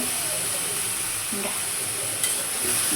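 Vegetable bhaji with salt and turmeric being stirred in a pan, a steady close frying hiss with occasional scrapes of the spatula and a faint high whine in the background.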